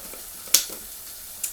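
A faint, soft sizzle of liquid in a hot pan while making orzo, with a couple of sharp clicks, quiet and close.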